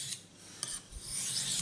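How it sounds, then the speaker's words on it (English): Knife blade drawn across a 1200-grit diamond sharpening plate, giving a few quiet, brief rasping strokes. "sharpened on a 400 then 1200 grit diamond plate"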